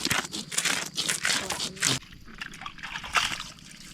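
Mushrooms being washed in water, with splashing, trickling and sloshing close by in bursts, followed by quieter drips and dribbles.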